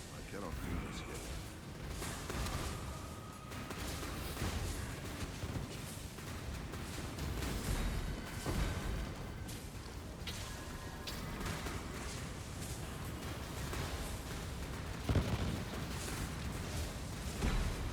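Constant bursts of explosions from a chieftain character's fire-tornado skills fill a busy game scene, dense and continuous with sharper booms now and then, under steady talk.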